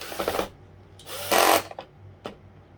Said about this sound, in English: We're going to put our drill to the tighten side